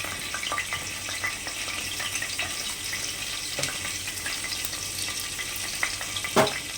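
White cumin seeds tempering in hot oil left from frying pointed gourd, a steady close crackling sizzle with small pops throughout and one sharper spatter near the end.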